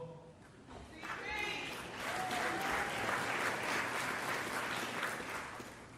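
Large audience at the 2023 NBA Hall of Fame induction ceremony breaking into sustained applause, clapping swelling to a broad, steady wash with scattered voices and cheers mixed in.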